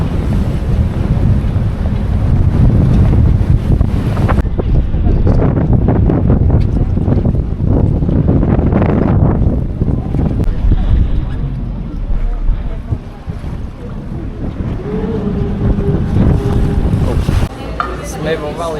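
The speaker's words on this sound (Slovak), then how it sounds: "Strašne fúkalo, nevedel som sa ani nadýchnuť." Strong wind buffets the microphone with loud, roaring rumble throughout a fast boat ride toward Valletta, Malta, mixed with rushing water and waves, gusts rising and falling over nearly twenty seconds.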